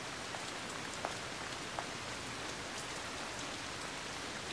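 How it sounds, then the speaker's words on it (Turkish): Steady rain falls throughout, a dense even hiss of drops hitting a surface with a few sharper individual drips standing out, with no talk over it. "yağmur yağardı"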